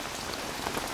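Rain pours steadily onto a surface, a dense, even hiss of countless drops that stays constant for the whole second with no voices.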